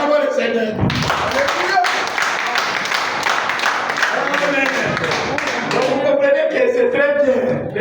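A church congregation claps and cheers in praise, with rhythmic clapping under loud, continuous voices that swell and fade across the hall.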